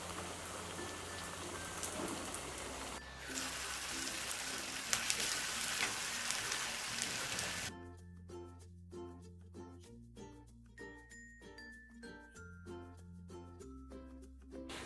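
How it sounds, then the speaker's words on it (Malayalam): Semolina rava cutlets fry in hot oil with a loud, dense, continuous sizzle up close, which then gives way to background music. "ഇരിക്കുന്ന മാവെല്ലാം ഇട്ട് നമുക്ക് ഫ്രൈ ചെയ്ത് കട്ട്ലറ്റ് ആക്കി എടുക്കാം."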